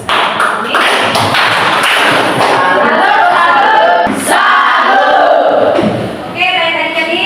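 A classroom group claps together in a burst of applause, loud and close, with voices talking over and around the clapping as it fades.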